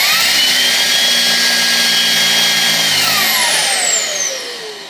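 Ryobi jobsite hand vacuum running while clogged, a loud, steady motor whine with a strained high tone that shifts pitch partway and tapers off at the end, close and alone.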